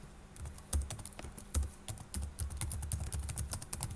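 Keys clatter on a computer keyboard in quick, uneven bursts as text is typed into a label while building a Kodular app, with a low background hum underneath and no talking.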